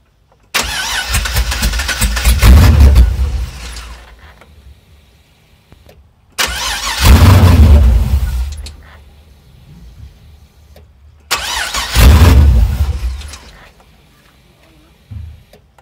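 A car from an LS13 project with an LS engine, running and throttled: three loud, close revving bursts, each rising sharply then falling back to a rough idle.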